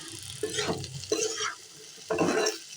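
Potatoes and bitter gourd being stirred in a frying pan, three scraping strokes of a spatula over a soft sizzle, close and fairly loud.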